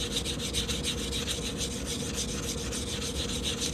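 Sandpaper rubs against a coin ring being shined in quick, even back-and-forth strokes, a close, steady rasping with a regular rhythm and no talk.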